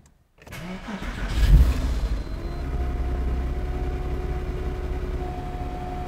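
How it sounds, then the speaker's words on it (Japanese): A 2006 Porsche Cayman S (Type 987, six-speed manual) engine cranks and fires up with a quick rev, then settles into a smooth, steady idle close by. "ではエンジン始動していきます。"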